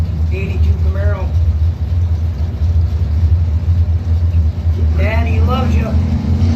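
An altered drag car and a 1982 Camaro idle at a drag strip, giving off a steady, heavy low engine rumble that runs throughout, with brief voices heard over it.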